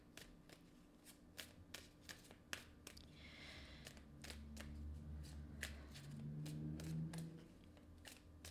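Tarot cards being handled and one drawn from the deck, a string of crisp close snaps and flicks at an irregular pace, followed by a soft sliding rustle.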